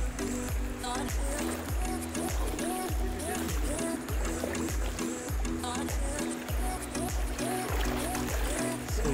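Kayak paddle strokes splashing rhythmically through shallow backwater at Palolem Beach in South Goa, a regular series of close water dips and drips, loud and continuous with faint voices in the background.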